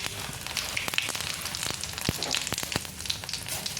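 Cumin seeds and asafoetida frying in hot oil in a pan, a steady close crackling sizzle with scattered pops throughout, no voices.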